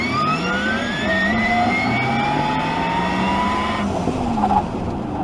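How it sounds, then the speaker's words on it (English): A 2021 Porsche Taycan Turbo S electric car produces its synthetic sport sound, a rising whirring whine like a sci-fi speeder that climbs steadily, then cuts off near the end. "the electric sport sound. This gives you an almost a kind of a Star Wars speeder type of sound"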